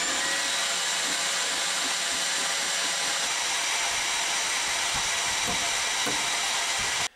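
A leaf blower running at low speed drives a homemade vertical wind turbine built from barrels and scooter parts, giving a loud, steady broadband roar that holds constant and cuts off abruptly at the end.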